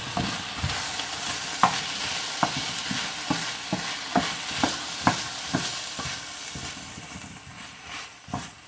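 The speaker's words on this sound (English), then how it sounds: "get that oil on those, and that flavor, get that sausage cooking down" Sausage frying in oil alongside pork ribs cooking, a soft continuous sizzle broken by regular sharp scrapes and clicks of a utensil stirring the pan, fairly close and moderately quiet.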